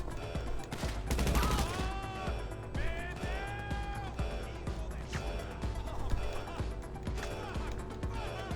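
Bursts of gunfire ring out during a GTA Online Diamond Casino heist, sharp repeated shots scattered amid busy game noise and faint voices, fairly quiet overall.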